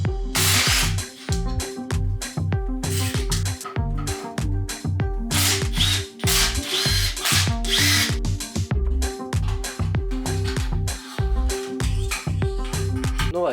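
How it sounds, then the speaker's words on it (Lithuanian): Bolts being unscrewed on a Yamaha Rex 70cc scooter, heard as a steady series of short, loud, whirring power-tool bursts in quick rhythmic succession, close by. "reikės ko gero čia porą varžtų atsisukti"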